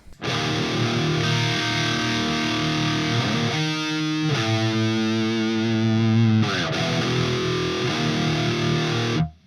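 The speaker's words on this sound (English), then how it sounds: "This is the chorus on its own." Electric guitar played through a chorus effect pedal in an amp's effects loop, sustained shimmering chords rung out one after another with a few changes, loud and alone.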